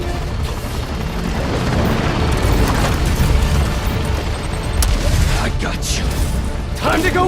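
Gunship being destroyed in the Spider-Man PS5 video game, a sustained rumbling blast with crashing debris and sharp cracks near the end, loud and continuous beneath game dialogue.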